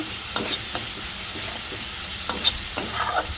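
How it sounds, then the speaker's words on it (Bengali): Spice masala sautéing in a pan, a steady bright sizzle running throughout with a few sharp scrapes and clinks of the stirring spoon, close and alone without talk. "দেখো সুন্দর করে মশলাটা কষিয়ে তারপর জল দিয়ে দিচ্ছি"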